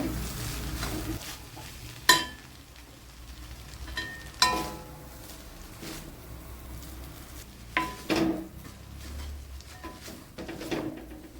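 Egg noodles tossed with tomato, soy and Schezwan sauces in a pan, a soft sizzle under scraping stirs and a few sharp clanks of a utensil against the metal.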